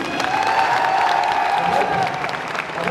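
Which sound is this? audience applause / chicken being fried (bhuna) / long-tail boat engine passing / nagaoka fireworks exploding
audience applause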